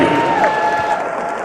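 Arena crowd at a super lightweight boxing match claps and cheers for both fighters after ten rounds, a loud sustained roar of applause with shouts and a voice carrying over it.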